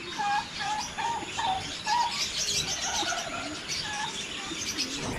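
Pigeons cooing in a pen, several soft repeated coos with chirps and light rustling, fairly close and moderately loud.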